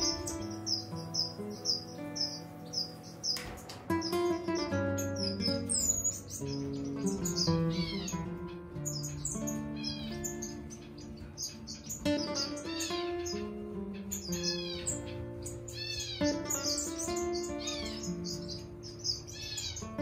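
Pet birds in an aviary chirp and tweet nonstop, many high bright calls and whistles overlapping at close range, steady and fairly loud throughout.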